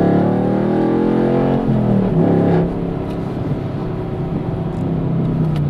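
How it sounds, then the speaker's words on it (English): Chevrolet Camaro SS V8 with an MRT Version 3 cat-back exhaust pulls hard through the gears, a loud continuous engine roar that dips briefly at a shift and then climbs again, with no talking over it. "now we're going to get out into a little bit higher speed traffic and go through the gears."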